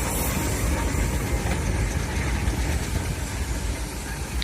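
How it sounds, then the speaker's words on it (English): A convertible steam traction engine drives around the ring at the Torbay steam rally, a steady loud low chuffing rumble with mechanical clatter, close and continuous throughout. "We've got a convertible engine coming around now"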